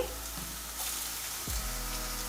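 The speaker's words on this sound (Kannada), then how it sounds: "ಈರುಳ್ಳಿ ಒಂದೇ ಒಂದು ಹೆಚ್ಚಿದ್ದು ಎಲ್ಲ ಲೈಟಾಗಿ ಫ್ರೈ ಆದರೆ ಸಾಕು" A chopped onion lightly frying in a pan while hot garlic sauce is made, producing a soft, steady sizzle up close with a brief low thump partway through.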